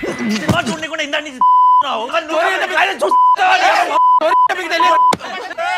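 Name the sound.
beep sounds in an advertisement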